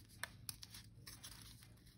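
Paper is torn by hand to rough up the edges for a six-pocket folded book, producing faint, close, scratchy ripping with a few sharper snaps, alone without talk.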